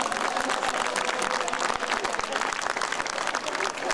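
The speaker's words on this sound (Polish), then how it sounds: "Wielkie brawa!" An audience at an outdoor amphitheatre concert on Góra Świętej Anny in Poland claps in dense, sustained applause, and a voice is heard over the clapping.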